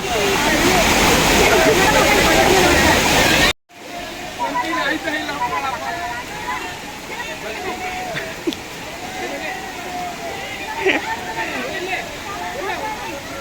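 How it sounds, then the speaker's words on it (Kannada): Hanbal waterfall at Sakleshpur pours in a steady rushing roar, loud and close at first, then softer and more distant after a brief cut, with a crowd of people chattering nearby. "ಇದೇ ನೀರು ಹೋಗ್ತಿತ್ತಲ್ಲ ಮೇಲ್ಗಡೆಯಿಂದ ಬೀಳ್ತಿದೆ"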